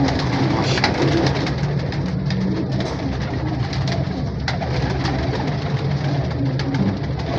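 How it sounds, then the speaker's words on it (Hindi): A high flyer pigeon coos repeatedly at a busy market, its low, throaty calls close and steady over constant crowd and street noise, with a faint engine in the background. "ये देखिए बड़ा तगड़ा कबूतर है ये"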